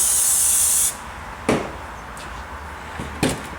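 A spray bottle mists a model tree in one sustained hissing spray, then brief sharp handling taps and clicks follow in the quiet.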